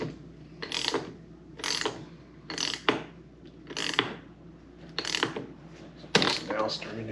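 A ratcheting hand tool cranks down on a Jeep battery cable clamp in repeated bursts of clicking, about six strokes spaced roughly a second apart, close up with faint background noise.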